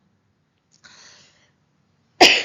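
A woman gives one sharp, loud cough near the end during a spoken classroom lesson, after a faint breathy rasp and otherwise quiet surroundings.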